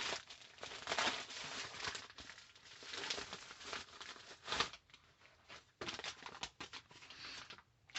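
A mail package is opened at close range, with plastic or paper wrapping crinkling and rustling in uneven bursts. Handling noises come and go softly, with no talking.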